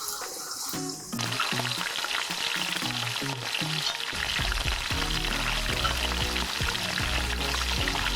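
Battered vegetables deep-frying in hot oil, a loud, dense, continuous sizzle and crackle held close throughout, with a few sharper pops and no talk.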